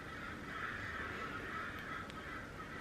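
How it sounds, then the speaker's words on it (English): Crows cawing outside, faint and distant over a steady hiss of ambient outdoor noise, with one brief sharper call near the end. "can you guys hear those birds?"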